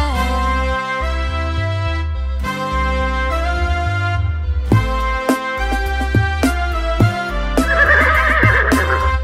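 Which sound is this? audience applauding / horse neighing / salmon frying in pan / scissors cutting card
horse neighing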